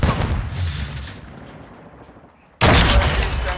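Gunfire from Call of Duty, a loud burst fading over about two seconds, then a brief gap and a second sudden loud volley of shots and blasts.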